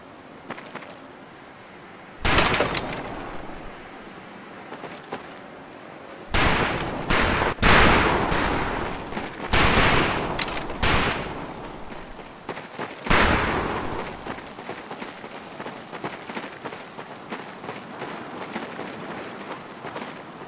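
Rifle shots crack at a shooting practice range in Medal of Honor Pacific Assault, with loud individual reports and clusters of fire spread irregularly over a quiet background, some shots sharp and close, others rattling in quick succession.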